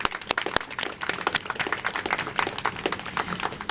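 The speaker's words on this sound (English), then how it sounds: "So a big round of applause for the work that you do." An audience at a press conference for a Hispanic Heritage Month event claps steadily for a few seconds. Many hands patter evenly, close by, with no voices over them.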